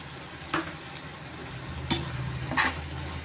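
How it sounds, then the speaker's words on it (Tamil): Chopped tomatoes go into brinjal frying for chutney, with three distinct scraping stirs against the pan over a low, steady sizzle, close and moderately quiet with no talking. "தக்காளி வெட்டி வச்சுருக்கேன், தக்காளியை போடுவோம்."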